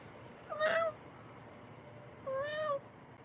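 A person's voice imitates a cat, giving two separate drawn-out meows about two seconds apart, fairly quiet and close against a soft background hush.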